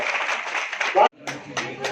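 Applause from a crowd at an Independence Day cultural programme at the Mundara sewing centre, a dense patter of clapping that cuts off briefly and then resumes in bursts, with voices mixed in.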